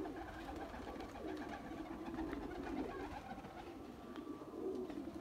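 Pigeons coo at a Jammu bird sale featuring golden, red-eyed and ordinary birds. Soft, continuous low burbling carries steadily throughout at moderate distance, with no voices over it.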